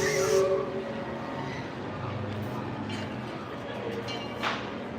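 Disneyland Railroad steam train standing at the station at Disneyland, a steady hiss of steam with a short whistle-like tone at the start, under crowd murmur and distant speech.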